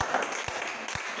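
A church congregation applauding during a sermon, a continuous wash of clapping from a crowd with a few low thumps, brief and fairly full.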